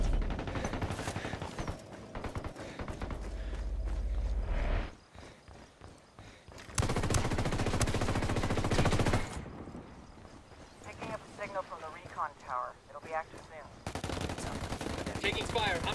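Video game firefight with dense bursts of automatic gunfire, sustained and loud, broken by short lulls and scattered shots, with voices calling out over the shooting.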